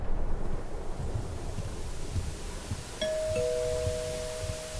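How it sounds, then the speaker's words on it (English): Front doorbell ringing in the horror video game Suffer The Night during a storm: a single clear two-tone chime rings out midway over a low, steady bed of wind and rain. "That was the front doorbell."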